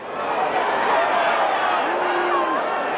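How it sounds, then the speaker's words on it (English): A steady murmur of an unhappy rugby league crowd fills the stadium at a 1994 Bradford v Castleford playoff match, a continuous broad rumble with a commentator speaking over it. "Crowd not happy, not surprisingly."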